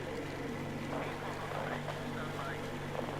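A boat engine in the video game Metro Exodus runs as a steady low drone throughout, with faint voices talking over it.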